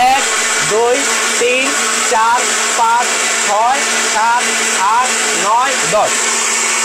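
A food processor runs continuously on ginger with a loud, steady motor whine that rises and falls in rhythmic pulses, while a man counts aloud over it.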